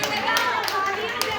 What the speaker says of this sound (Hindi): देखिए तालियां बजाते रहिए।